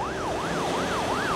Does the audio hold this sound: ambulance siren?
yes